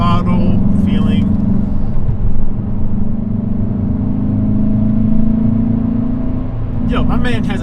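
A 2020 Hyundai Veloster N on a canyon highway gives a steady, loud engine drone under throttle, continuous rumble and road noise throughout with brief higher bursts near the start and end.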